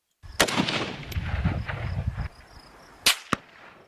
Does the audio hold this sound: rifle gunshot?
yes